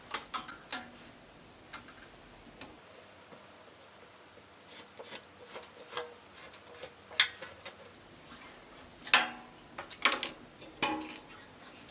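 Scissors snip through fabric while cutting out a flare dress pattern, producing a series of faint, irregular clicks and crisp snips close by, sparse at first and clustering toward the end, with no talking.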